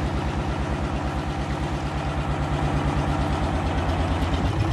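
A vehicle engine idles with a steady, rhythmic low chugging, close and continuous, with no voices.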